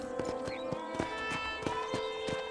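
Hooves of a ridden horse in Red Dead Redemption clop in a steady, evenly spaced rhythm, fairly close and clear over a tonal game music bed, with little talk.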